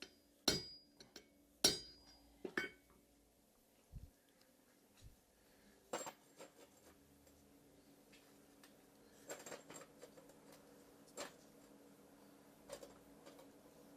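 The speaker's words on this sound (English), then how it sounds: "Need to hammer it just a little bit." Small hammer taps on metal pieces of a deer sculpture, sharp irregular clinks, some in quick clusters and others spaced apart, against a quiet room.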